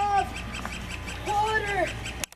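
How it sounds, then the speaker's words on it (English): A small noisy bird calls repeatedly outdoors in short rising chirps and a longer warbling phrase, fairly faint over steady background hiss, ending abruptly. "There's a noisy little bird up there."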